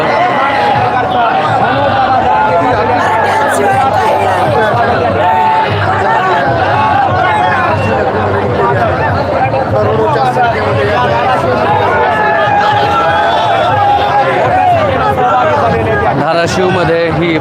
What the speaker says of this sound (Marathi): या दोन्ही रोडवरती प्रचंड गर्दी धाराशिवमध्ये पाहायला मिळत आहे